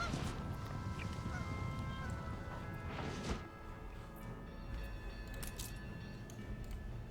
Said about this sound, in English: I quite like these geese fields.